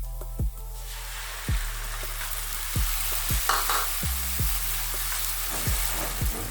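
Tomatoes going into onions frying for a lentil stew, a continuous sizzle broken by about nine sharp spoon knocks against the pot at uneven intervals, close and fairly loud.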